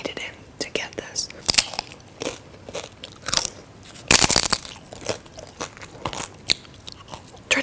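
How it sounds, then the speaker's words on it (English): Chipotle tortilla chips are bitten and chewed close up. Sharp, loud crunches come in irregular bursts, with quieter crackling between bites. "so I'm going to eat this with chips"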